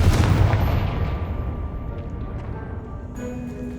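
A Confringo fire spell from Hogwarts Legacy bursts at the start as one loud blast, followed by a rumbling decay and a lingering low ambient tail.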